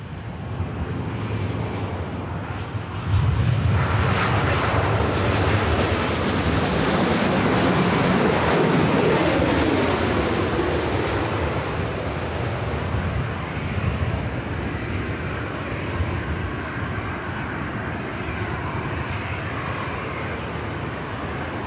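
An Air Tahiti Nui airliner at LAX roars past, its jet noise building quickly after a few seconds into a loud, broad rush that peaks near the middle and then slowly fades as it moves away.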